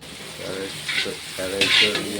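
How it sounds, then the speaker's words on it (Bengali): Ghugni masala being sautéed in a pan, a short burst of stirring and scraping over a low sizzle, close and moderately loud, with no talking. "ঘুগনির মশলা কষা হচ্ছে"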